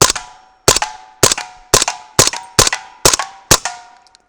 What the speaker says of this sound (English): let's finish with a flurry on the propane tank.